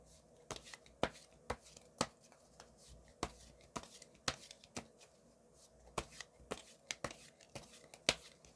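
Tarot cards being shuffled and drawn by hand, a quick run of crisp snapping riffles and slaps at an uneven rhythm, close and fairly quiet, with no voices.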